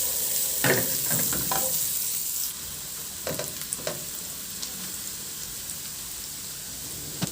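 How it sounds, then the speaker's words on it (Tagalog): Onion added to a pan of sautéing garlic, sizzling steadily with utensil scrapes and light taps early on, then a quieter continuous fry. "Isunod ko na rin yung sibuyas."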